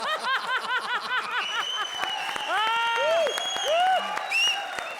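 Comedy show audience breaking into applause mixed with laughter and chuckles, a lively crowd clapping steadily with whoops and musical stings over the top.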